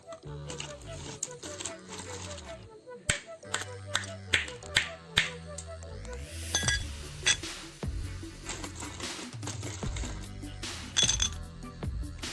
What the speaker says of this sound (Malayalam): നമുക്ക് കുറച്ച് ഐസ് ക്യൂബുകൾ ഇതിലേക്ക് ഇട്ട് കൊടുക്കുക.